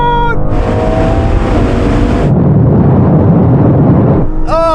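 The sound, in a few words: sports cars accelerating in a rolling drag race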